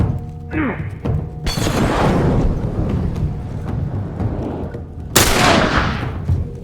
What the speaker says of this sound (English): taking out one more hunter with the remainder of my shotgun shells